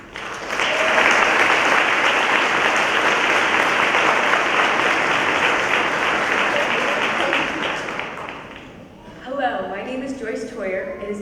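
Loud, sustained applause from a high school senior awards ceremony audience fills most of the stretch, then fades as a person begins speaking near the end.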